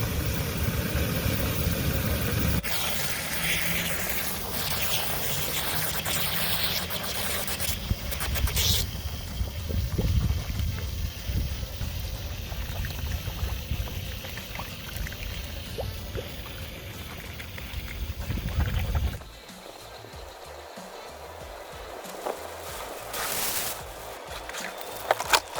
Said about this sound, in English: I'm going to fill it right up to the top. Drain it out, fill it up, drain it out